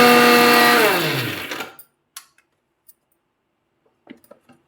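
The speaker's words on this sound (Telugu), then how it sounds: "మిక్సీలో వేసుకుందాం." A mixer grinder whirs loudly while it grinds coconut pieces, green chillies and salt, then winds down and stops, followed by a few faint clicks and taps.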